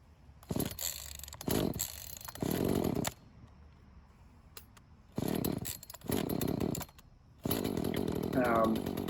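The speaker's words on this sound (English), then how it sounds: "we're going to do a cold start. Here's an honest cold start." An Echo CS 330T chainsaw cold-starts after sitting unused for three weeks, firing in several loud, close bursts of engine roar separated by brief quieter gaps.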